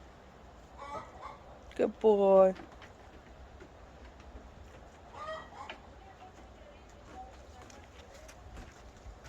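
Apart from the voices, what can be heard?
chickens clucking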